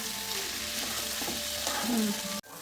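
Khichuri of rice and lentils fries in a pan with a steady, quiet sizzle and light stirring scrapes throughout.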